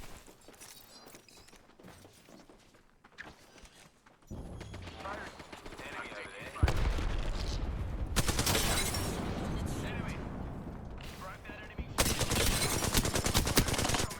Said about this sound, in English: Second squad is firing on us.